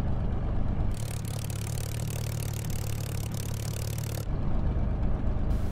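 Royal Aircraft Factory S.E.5 biplane engine in MSFS 2020, heard from outside the aircraft: a steady, droning idle with a low hum and broadband rush lasting several seconds, quieter low rumble before and after.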